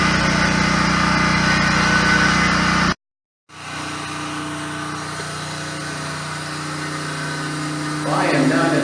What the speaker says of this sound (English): sorry about the noise. The generator is running in the background here.